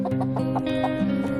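Chickens cluck in short, repeated bursts near a farmyard where a livestock guardian dog and a Wheaton Terrier are being trained around them, loud and close with a steady background hum.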